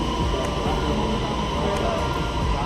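Metro train running at a station, a steady rumbling mechanical drone with a constant hum throughout and a couple of faint clicks, close and continuous.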